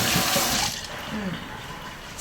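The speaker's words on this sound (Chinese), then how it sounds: "我们再冲洗一下。" Tap water runs steadily into a kitchen sink while cooked duck wings are rinsed, a close, continuous rushing splash with slight changes as the food moves under the stream.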